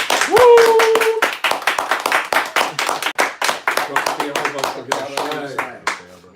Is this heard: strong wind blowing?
no